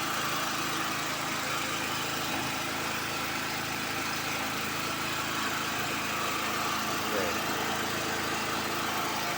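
Diesel generator set running beside an ATS panel, a steady continuous engine hum with a dense broadband drone, unchanging throughout with faint voices underneath.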